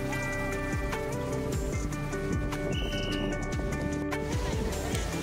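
Horse-drawn carriage hooves clip-clop on Rajodi Beach amid steady beach bustle and faint whistles, with scattered voices in the background throughout.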